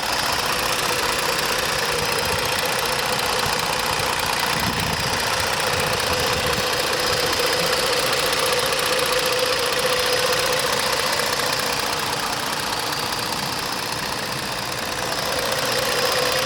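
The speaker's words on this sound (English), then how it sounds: "Let me be quiet here for a second so you can hear the engine." A 2017 Ford Taurus Police Interceptor idles steadily, its even mid-pitched engine hum and faint vibration continuing close by with no talking.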